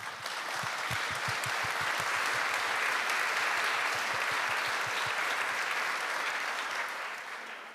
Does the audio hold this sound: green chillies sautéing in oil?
no